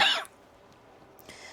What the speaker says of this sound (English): I'm trying to suppress a cough.